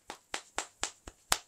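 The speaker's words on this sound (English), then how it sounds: "So this is what I mean by ass clapping." Bare buttocks are slapped together in a demonstration, giving six crisp, evenly spaced smacking claps in quick succession, close and clear against silence, with the last clap landing a little harder.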